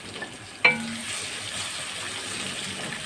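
Chopped onions fry in a pan, browning to golden for a homemade pizza sauce: a steady close sizzle with one sharp clack of a utensil early on, no voices.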